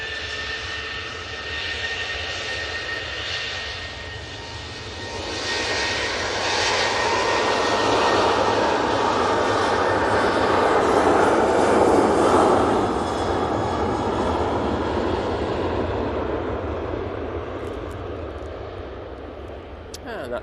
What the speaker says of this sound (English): And that 737's off to Barcelona.